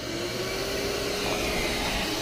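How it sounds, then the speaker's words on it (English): Shop vacuum cleaner drawing engine oil up a tube from a Lexus ES350 during an oil change, a steady loud motor whine with broadband airflow hiss running continuously without talk. "Okay, so I'm going to start the vacuum cleaner."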